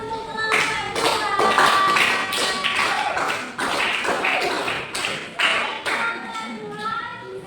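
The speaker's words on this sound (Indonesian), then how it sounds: "Beri aplaus untuk kelompok 2." Students in a classroom applaud group 2 with loose, uneven clapping and a few taps and thumps. The clapping is close and moderately loud, swells and fades in bursts, and carries faint voices underneath.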